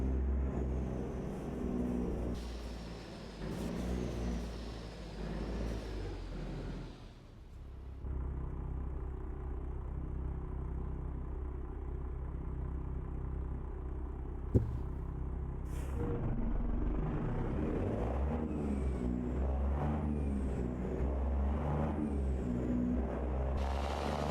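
A Kenworth T800 semi truck engine in American Truck Simulator drones and rumbles continuously, rising and falling in pitch as it revs through gears, with a brief hiss of air brakes.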